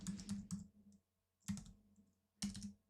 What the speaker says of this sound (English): So I'm just typing that in now